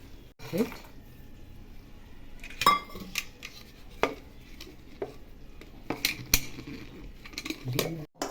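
Roasted makhana (fox nuts) are crushed for laddu, giving intermittent close clatters, crunches and knocks of utensils against a dish, with a voice speaking at times between the bursts.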